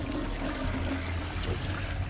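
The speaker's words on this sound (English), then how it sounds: "Always flush." Toilet flushing in the video game Dishonored: Death of the Outsider, a steady rushing, gurgling swirl of water heard close and continuous, moderately loud, with no voices.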